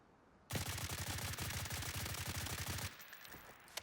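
Automatic gunfire in Blackhawk Rescue Mission 5 as a shooter sprays rounds at a wall from a standing position. One sustained rapid burst of sharp, evenly spaced shots runs for about two and a half seconds, then stops abruptly.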